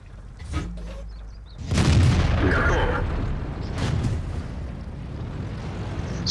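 A tank cannon fires in World of Tanks, a heavy boom swelling into a long rumbling roar that fades slowly over several seconds against low engine drone.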